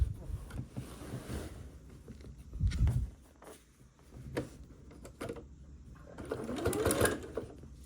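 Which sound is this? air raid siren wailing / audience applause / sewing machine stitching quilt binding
sewing machine stitching quilt binding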